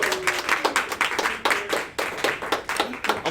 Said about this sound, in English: give everyone a round of applause for Team 6 making it all the way to the finals